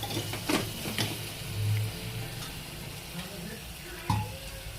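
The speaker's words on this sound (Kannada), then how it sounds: "ಸ್ವಲ್ಪ ಖಾರ ಎಣ್ಣೆನಲ್ಲೇ ಹಾಕಬೇಕು" Chili powder fries in hot oil in a home kitchen pan, giving a faint steady sizzle with a few soft stirring scrapes and light clinks.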